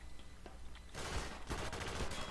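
Gunfire in the video game Half-Life 2, a faint scattered crackle that turns into a louder stretch of rapid shots and bursts, no talking over it.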